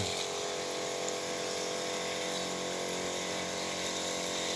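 Steady, loud spray of water from a high-pressure tank sprayer watering cacti, a continuous hiss with no pauses and no talking.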